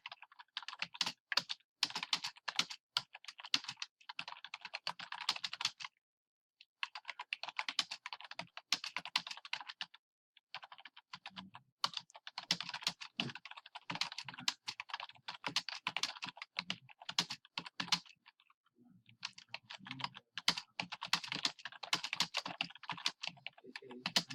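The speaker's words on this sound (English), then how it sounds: "and I type a message explaining why I used certain colors." Fingers type a message on a computer keyboard with quick, uneven clacking keystrokes. The typing comes in bursts with brief pauses, stays close and fairly soft, and no one speaks.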